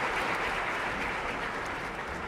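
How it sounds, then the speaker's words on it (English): A room full of conference attendees gives a sustained round of applause for the panelists at a corporate digital event, a dense and steady wash of clapping that holds evenly throughout with no talk over it. "Give everyone a round of applause."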